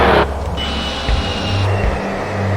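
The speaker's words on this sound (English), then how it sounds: "It even gives us the bomber landing gear sound." Bomber landing gear sound effect from the Fighters Anthology flight game, played while flying a Su-34 Fullback on approach, a loud mechanical whir and rumble with a brief hissing burst at the start over a steady engine drone.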